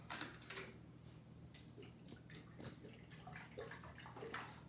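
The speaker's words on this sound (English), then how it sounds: "But I put that in there and we'll fill that up." Water splashing and trickling as a bearded dragon's water dish is filled, faint and close with clinks and light handling noises mixed in, no talking.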